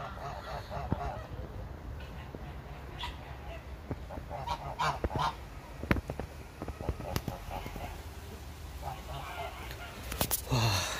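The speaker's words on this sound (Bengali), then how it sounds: "রাজহাঁস, ভিতরে দিকটা আরো মুরগি প্লাস হাঁস সব আছে।" Geese honk at a livestock farm in Germany that also keeps chickens and ducks, with repeated loud calls scattered over steady outdoor background noise and occasional voices.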